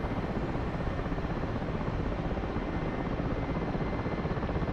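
A helicopter rotor throttling up in the DCS flight simulator, a steady, dense, loud roar with a fast rhythmic beating that holds without pause, no voices over it.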